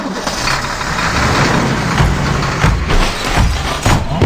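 A car engine in the Mr Meat 2 horror game cranks and settles into a loud, rough running rumble, close and steady throughout with slight surges, and no talk over it.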